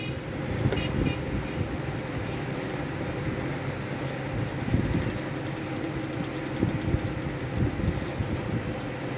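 Motorcycles and cars pull up in a busy rush at a water-tank filling point, with a continuous rumble of engines, passing traffic and a short horn toot near the start, and no talking.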